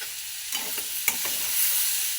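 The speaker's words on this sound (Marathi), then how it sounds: "परत याला 1 मिनिटासाठी असं हलवत राहायचं." A dry chickpea curry with kasuri methi is stirred as it fries in a pan, a steady close sizzle broken by a few scraping spoon strokes.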